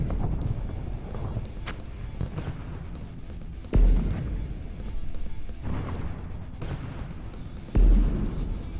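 A target ship being destroyed in a space combat game: two heavy, booming explosions about four seconds apart, each standing out sharply above a constant rumbling battle backdrop.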